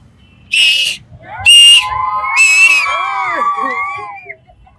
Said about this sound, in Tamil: ஸோ அதனால ஒரு விசில், அவருக்காக விசில் போடுறேன்